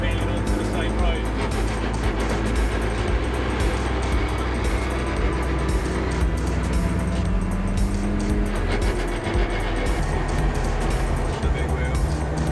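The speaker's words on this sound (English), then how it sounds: "They're all peeling onto the same road." Cars leaving a retro car meet in Southend pull out onto the road one after another, a steady loud rumble of engines and passing traffic close by, with someone talking over the noise.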